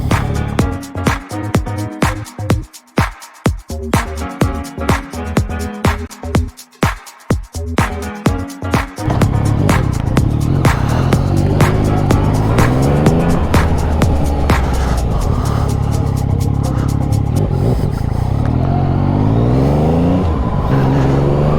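A Yamaha XSR900 with a brushed aluminium tank and brand new tyres pulls away and accelerates hard, its engine throbbing in choppy bursts before settling into a loud, steady, rising drone of sustained riding.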